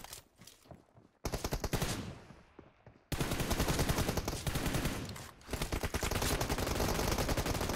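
Automatic gunfire in the mobile game PUBG Mobile, with rapid bursts: a short spatter, then a long sustained volley, a brief pause and another extended burst, loud and close.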